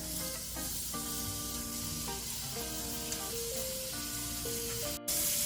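Steak sizzling steadily in a hot skillet over medium-high heat, a loud, constant frying hiss close up with a brief clatter near the end as it is flipped, no one speaking.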